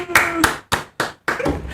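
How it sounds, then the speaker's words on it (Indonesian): Hand clapping from a small group in an Indonesian podcast studio, a few sharp separate bursts of claps with short pauses between, close and loud, with some voice mixed in. "Aplaus lagi dong."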